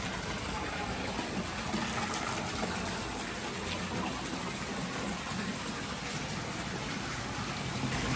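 Seven water streams pour continuously at a temple near Vaishno Devi, a loud, steady gushing rush filling the scene close by.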